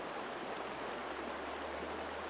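A river flows in a steady, dense wash of water, continuous and fairly close with no voices.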